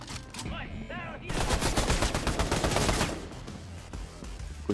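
Gunfire in the video game Fortnite: rapid bursts of shots and explosive cracks in a dense barrage, loud and continuous for a few seconds, with a voice faintly underneath.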